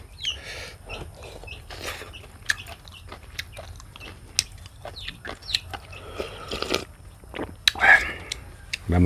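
Snake and rat porridge with papaya, mung beans and Vietnamese coriander is chewed and bitten up close, with wet crunching and smacking bites scattered throughout while someone talks softly over it.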